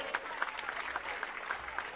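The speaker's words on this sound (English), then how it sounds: "Can you please give our dignitaries another big round of applause as they come forward?" Crowd applause at the Toowoomba Carnival of Flowers Grand Central Floral Parade, a steady outdoor patter of many hands with scattered sharper claps rising above it, moderately quiet and heard from a distance in the open street.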